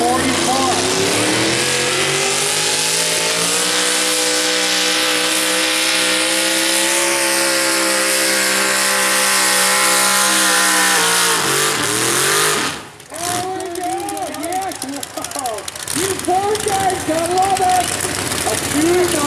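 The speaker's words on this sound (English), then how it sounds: "A 79 Ford with a 638 cubic inch Ford Hemi under the hood of this 4-wheel drive." A 1979 Ford four-wheel drive with a 638 cubic inch Ford Hemi howls loudly at a modified 4WD event, holding a steady high-revving roar before cutting off and rising again, with an announcer talking over it.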